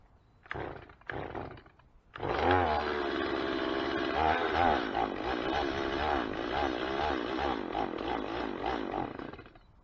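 Power saw cutting the top off a plastic barrel: after a couple of short revs, the motor settles into a loud, sustained buzzing cut with a rough, wavering tone that lasts to the end.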